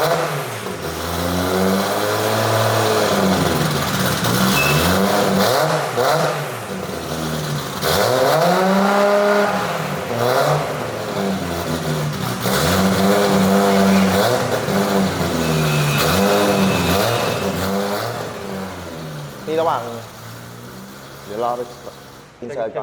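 A 700 HP Nissan Skyline R32 engine revs hard on a test drive, loud rising and falling sweeps repeating through the gears, close up and sustained, fading near the end as a few short blips follow.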